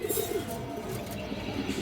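Pigeons kept for sale cooing nearby in a low, continuous throaty murmur, with a few faint chirps over a busy background.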